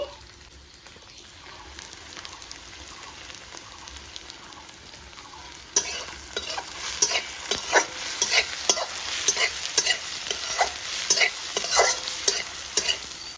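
After a quiet start, onions, garlic, chillies and bay leaves hit hot oil and sizzle loudly, crackling and spattering close by while being stirred.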